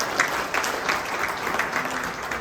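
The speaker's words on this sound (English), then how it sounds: "Let's have one round of applause" Steady applause from an audience at a volleyball awards banquet, a dense wash of clapping hands that holds at an even level throughout.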